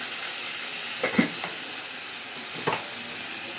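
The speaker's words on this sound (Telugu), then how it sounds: "కడిగి పెట్టుకున్న కీమా వేసేసుకుందాం" Washed minced mutton keema sits in a hot pan, giving a steady low hiss with a few faint scraping stir strokes over it.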